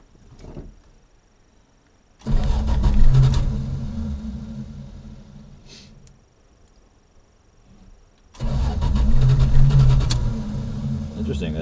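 A 1974 Valiant engine turns over and fires, runs briefly and dies down, then starts up again a few seconds later, nearby and fairly loud.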